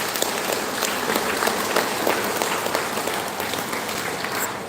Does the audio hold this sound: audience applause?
yes